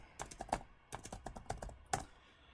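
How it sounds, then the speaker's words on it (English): A single word typed on a computer keyboard while building a query in Excel: quick clusters of crisp, close key clicks in a few short bursts with brief pauses between. "Type the word value."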